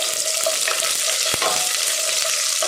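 Onion frying in hot oil with mustard seeds for hotel-style ground-masala sambar, a steady close sizzle broken by a soft scrape of stirring midway, continuous and without speech.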